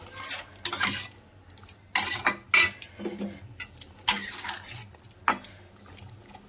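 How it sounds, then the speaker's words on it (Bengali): A spoon clatters and scrapes against a metal pan in several sharp, irregular bursts as fried prawns are stirred together with jackfruit curry. "এবার ভালো করে একসঙ্গে দিয়ে নাড়াচাড়া করে নেব।"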